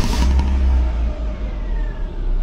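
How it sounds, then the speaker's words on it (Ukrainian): A car engine turns over and runs at a steady idle, heard close up with a low, continuous rumble, while an ELM327 OBD-II diagnostic adapter reads engine temperature and RPM. "Спробуємо завести двигун, побачимо, що він нам покаже."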